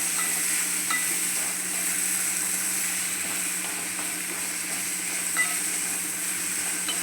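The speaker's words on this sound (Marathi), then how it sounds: "व्यवस्थित असं भाजून घ्यायचं त्याच्यात." A mixture with bottle gourd sizzles gently in a pan over low heat, a steady soft frying hiss with faint scraping from occasional stirring, quiet and continuous, no voices.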